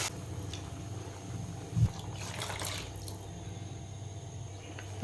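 Water is poured into a pan on a gas stove while cooking ragi upma, a faint, steady trickle and splash running throughout under a low background hum, with no talk.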